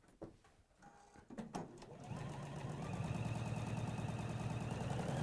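Juki sewing machine stitching down three layers of fabric: a few clicks and handling noises, then the motor runs up into a steady, fast, close mechanical whir of stitching.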